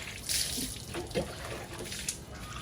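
Water runs and splashes steadily as soapy suds are rinsed off a car and its tires, washed outdoors with collected rainwater, a continuous moderate flow with a few brief splashes.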